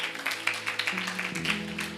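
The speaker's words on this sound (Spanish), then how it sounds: "Dele un aplauso al Rey." A church congregation applauds, a scattered clatter of clapping hands at moderate distance over a sustained background tone, with no speech.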